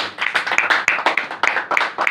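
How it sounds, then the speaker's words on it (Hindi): A crowd claps loudly and energetically at a religious gathering, with a steady burst of close, rhythmic applause filling the whole moment. "खालिद भाई के लिए भी जोरदार ताली।"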